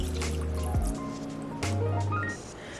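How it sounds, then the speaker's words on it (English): Apple cider vinegar pours from a measuring cup into a bowl of mayonnaise-based mixture in a kitchen, a short liquid glug and trickle heard up close, alone without speech. "Next, we're going to pour in 1/4 cup of apple cider vinegar."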